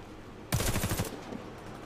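Gunfire in the video game Warface: a sudden loud burst of rapid automatic shots lasting about half a second, then quieter scattered shots trailing off with low background noise.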